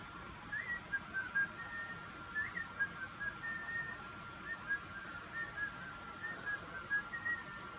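Someone whistles a quiet, wandering tune of short bright notes, faint and alone over a soft background hiss.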